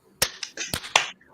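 Quick, sharp hand claps, about four crisp bursts in close succession, in a quiet indoor setting.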